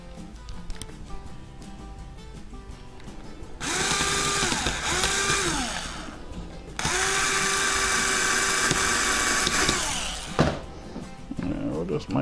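A power drill drives 5/8 screws into an H 540 quadcopter frame kit in two long, loud whirring runs, with its pitch rising and falling, while a person talks nearby.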